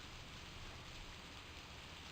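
Steady rain in a point-and-click video game, a soft continuous hiss of falling drops that stays even and unbroken from start to finish with no voices.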